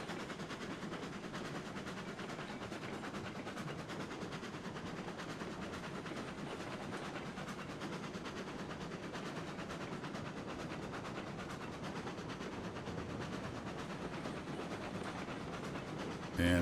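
A train running in the video game Railroads Online gives a continuous, even rumble and rush of noise at low level, unchanging throughout with no clear voices.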